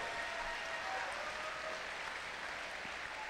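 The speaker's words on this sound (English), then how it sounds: "let's give a big applause to these 4 teams for all their work today" A crowd at a FIRST robotics off-season regional event applauds the teams with steady, continuous clapping from a large audience, even and fairly distant throughout.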